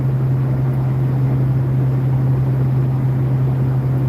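Cabin noise inside a car while cruising home, a loud steady engine drone with a strong low hum that stays even and unbroken for the whole stretch, close and without talk.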